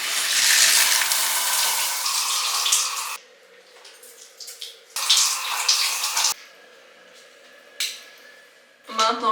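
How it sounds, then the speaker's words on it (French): Running water from a home shower comes in loud bursts that stop and start several times, with quieter gaps between the spray sounds. "On va prendre une douche"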